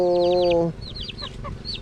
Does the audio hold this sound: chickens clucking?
yes